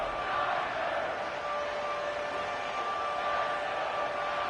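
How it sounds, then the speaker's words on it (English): Stadium crowd noise from a Madden 25 football game, Chargers at 49ers, a steady broad roar of many voices sustained throughout at a fairly even level, with a faint tonal hum underneath. "This crowd into it now as we get to third down."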